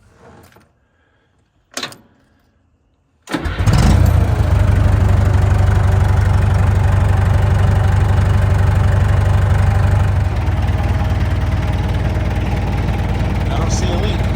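A Komatsu bulldozer diesel engine, just repaired, catches after a couple of short bumps and settles into a loud, steady, rumbling idle close by, with a slight change in tone partway through.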